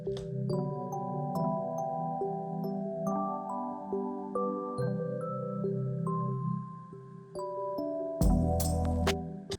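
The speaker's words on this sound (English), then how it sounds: "I would bring it back down a whole bunch to give like a whoosh, kind of like an underwater effect" Lofi downtempo beat built from stock plugins, with mellow sustained chords, a steady bass bed and light percussion, closing with a louder, brighter burst as the filter opens back up for the drop.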